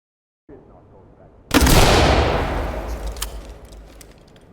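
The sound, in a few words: gunfire shot through walls in the video game Ready or Not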